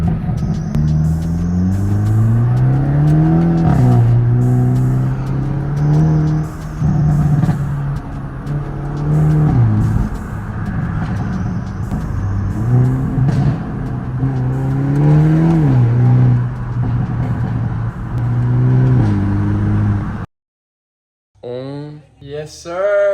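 A BMW M4 Competition engine revs hard and close, rising and falling in repeated loud pulls with a deep droning exhaust note, then briefly cuts out before a short final burst.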